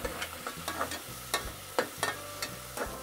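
Garam masala and coriander-cumin powder being stirred into masale bhaat with peas and potatoes, rhythmic spoon scrapes and taps against the pan repeating at a quick pace over a soft sizzle and faint music.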